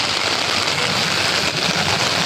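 Heavy typhoon rain pours down on a street in Manila, a loud, dense and continuous hiss of water hitting surfaces with no pauses and no voices.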